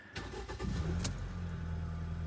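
A car engine with a high-pressure fuel pump cranks briefly and catches, settling into a steady low idle rumble, heard close and alone during a mobile mechanic's diagnostic check.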